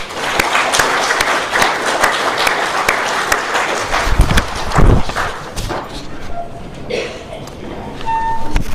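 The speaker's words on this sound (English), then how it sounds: "So, round of applause for everyone." Dense, steady clapping from a Rotary club meeting audience in Melbourne fills the room for several seconds, with a few voices mixed in, swelling slightly midway before tapering off.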